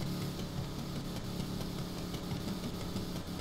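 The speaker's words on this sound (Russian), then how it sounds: "Вот он, выхлоп наш, прямо фигачит жестко." A car in GTA 5 with a side-mounted exhaust constantly shooting flames, giving a steady, fairly loud engine drone with a continuous rumbling roar and no breaks.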